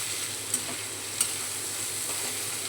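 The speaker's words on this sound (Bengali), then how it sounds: "এখন ভেজে রাখা পনিরটা দিয়ে দিলাম। পনিরটা দিয়েও সুন্দর করে মিশিয়ে দেব।" Fried paneer stirred into a pan for paneer chatpati, a steady soft sizzle with two brief spoon scrapes against the pan, faint and without voices.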